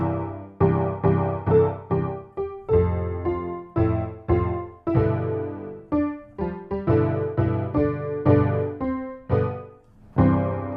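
A MIDI keyboard plays a steady classical-style passage of chords and melody notes, clear and close, with no voices.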